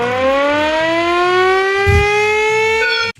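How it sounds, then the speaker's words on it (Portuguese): A loud civil-defence-style siren wails a warning of a lethal gas leak, with a steady rising tone over a low pulsing throb, then cuts off abruptly after about three seconds. "Que trem de sirene é essa, cara?"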